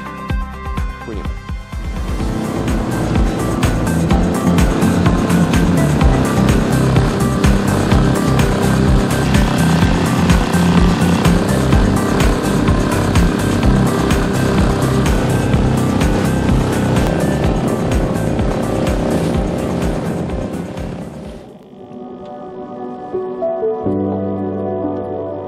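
An outboard boat motor running at steady high revs while heading out to a fishing spot on Lake Żarnowiec, a loud continuous droning hum that cuts off near the end, leaving quieter mechanical sounds.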